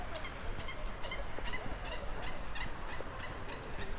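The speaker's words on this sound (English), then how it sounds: "Lovely bird sounds" Birds call repeatedly over steady outdoor background noise, short bright chirps scattered throughout at moderate distance.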